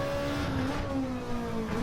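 Race car engine in the Manu Cup at Interlagos, a racing video game, holding a steady lightly revving drone with smooth, slowly shifting pitch throughout.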